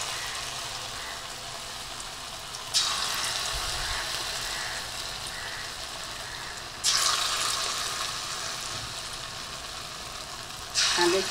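Pumpkin fritters coated in rice flour and gram flour fry in hot oil, a steady broadband sizzle with three louder surges as more batter drops into the pan; no one speaks.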